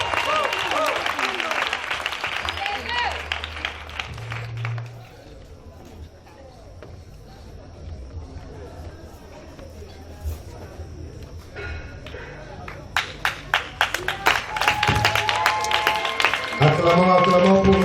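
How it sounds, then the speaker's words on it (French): A crowd applauds at a 20th wedding anniversary celebration, bursts of clapping swelling near the end over voices and background music, with a quieter stretch in the middle. "Acclamons très fort pour elle."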